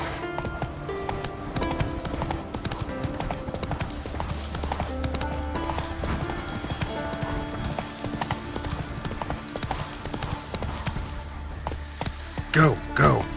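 Roach, the horse in The Witcher 3: Wild Hunt, clip-clops along in a steady rhythmic gait, with jangling tack and game ambience, brief voice and a snort near the end.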